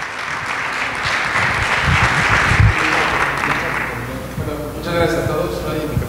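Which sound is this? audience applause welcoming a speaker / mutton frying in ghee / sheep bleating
audience applause welcoming a speaker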